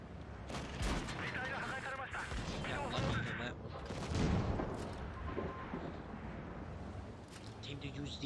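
Tank cannon shots and explosion bursts from a World of Tanks Blitz battle with the STB-1 in play, a dense, loud stream of booms and impacts layered over continuous game noise, with someone talking throughout.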